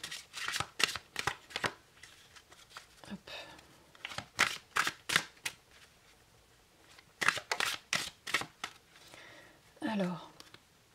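Oracle card deck being shuffled and a card drawn, giving bursts of crisp riffling and flicking strokes in quick clusters at close range, with a short soft slide near the end.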